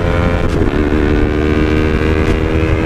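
A motorcycle held at high speed in 4th gear, heard from the rider's helmet as a steady, loud engine drone blended with rushing wind, unbroken for the whole stretch.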